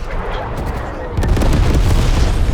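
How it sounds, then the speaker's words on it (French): Artillery strike explosions in the Call of Duty: Black Ops Cold War video game, a loud rumbling barrage of booms that swells heavier about halfway through and keeps crackling to the end. "J'ai mis un artillerie dans le point."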